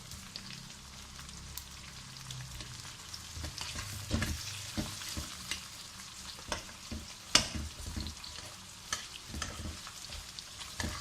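Three onions fry in oil in a pan for a chicken pepper dry, sizzling and crackling steadily while a spatula scrapes and stirs in irregular strokes with sharp taps, and no one speaks.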